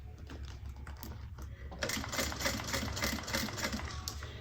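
A sewing machine top stitching a handbag starts up after a short pause and runs in a quick, even mechanical chatter, close and steady to the end.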